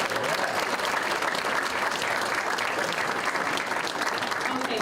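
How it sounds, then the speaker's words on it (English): Students and audience at a school board meeting clap in a sustained, dense round of applause that stays steady and full throughout, with a few voices mixed in. "if you guys can give yourselves a round of applause"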